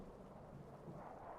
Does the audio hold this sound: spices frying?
no